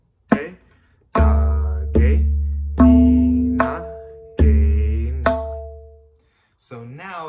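Tabla kaida strokes on the baya, the bass drum, ringing out as deep booming resonant hits in a measured pattern, each stroke decaying slowly, with a brief vocal syllable at the end.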